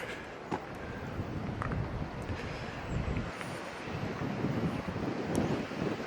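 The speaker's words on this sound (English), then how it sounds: "There's a little bit of wind around" Wind buffets the camera microphone outdoors at an old country estate, a continuous low rumbling roar with gusty swells throughout.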